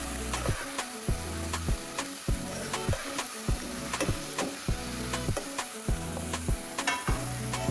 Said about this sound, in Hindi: इसे भी अच्छे से मिक्स करेंगे